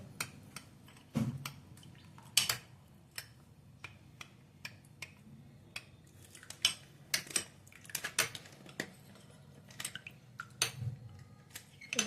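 A spoon scrapes and taps against a bowl, breaking lumps into a smooth paste for fruit custard, a run of irregular close metallic clicks and clinks with quieter stirring scrapes between them, no talking.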